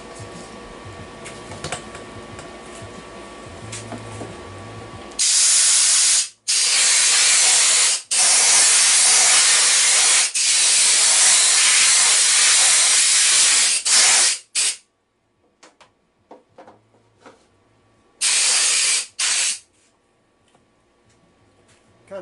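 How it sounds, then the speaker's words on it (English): An air hose blows off a machined Z axis servo mounting bracket in a workshop, with loud broadband hissing bursts of several seconds each, separated by short pauses and quiet machine hum. "See if I can get my air hose out of here without turning the camera over."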